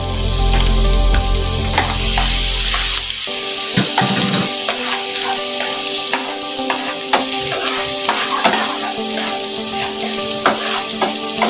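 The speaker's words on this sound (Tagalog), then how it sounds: "Lagay na po natin ang bawang." Chopped garlic hits hot oil in a pan for chop suey, erupting in a loud, steady sizzle and crackle that continues throughout with small pops and stirring clatter.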